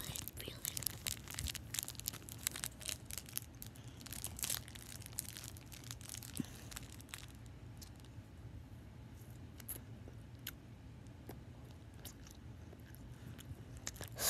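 Chewy mochi and peanut M&Ms are bitten and chewed close to the microphone, with a dense run of crisp crunches and sticky tearing sounds that thin out into softer, quieter chewing.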